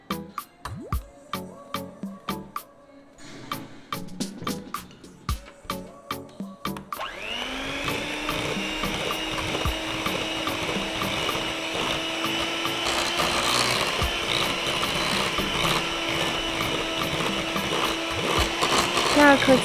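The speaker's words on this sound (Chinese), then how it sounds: "加入第2颗鸡蛋，继续的搅拌" Basque burnt cheesecake batter being mixed after a second egg goes in: a run of sharp rhythmic taps and knocks, then a continuous loud motorized whirring that steadies and builds to the end.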